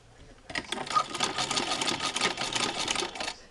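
A Singer 15-88 sewing machine with a zigzagger attachment runs in a steady, fast mechanical chatter while stitching over thick seam allowances on a small jacket, close and continuous for about three seconds.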